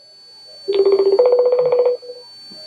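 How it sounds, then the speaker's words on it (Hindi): A phone rings loudly and close by, a warbling electronic ringtone that plays for about a second and then cuts off. "देखिए कब फोन है, कॉल उठा लेते हैं यहाँ पर"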